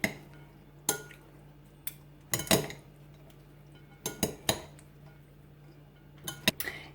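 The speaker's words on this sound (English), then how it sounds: "mix that through our salad" Quinoa salad being tossed in a bowl, with several sharp clinks and scrapes of utensils against the dish in separate bursts between quiet pauses, close and fairly soft.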